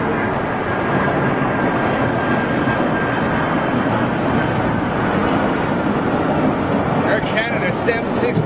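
An Air Canada Boeing 767 at London Heathrow gives a continuous, loud, rushing jet engine roar throughout, with a voice briefly audible near the end.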